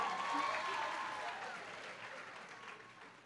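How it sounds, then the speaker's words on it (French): Applause from the crowd at a graduation ceremony, a broad rolling wash of clapping that starts full and slowly fades across the hall. "Je vous demande de l'applaudir à nouveau."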